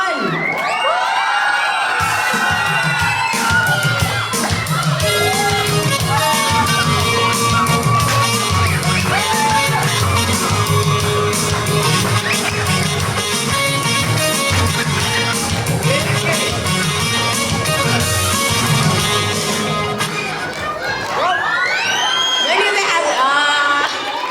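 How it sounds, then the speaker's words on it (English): Children at a church Christmas conference cheer, shout and whoop loudly and continuously, a dense crowd of young voices that dips briefly near the end before rising again. "Come on, encourage your parents, cheer them on."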